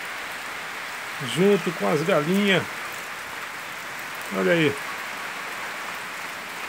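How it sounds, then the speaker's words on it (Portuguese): Steady rain hisses outside a backyard chicken coop where free-range hens shelter, a constant wash under someone speaking briefly in two short stretches. "Tá caindo uma chuva maravilhosa nesse momento e eu tive que esconder aqui no galinheiro junto com as galinhas"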